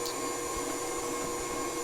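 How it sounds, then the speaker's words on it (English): A KitchenAid stand mixer whips eggnog, its motor giving a loud, steady, unbroken whir with no pauses. "This is why a KitchenAid makes so much sense right now."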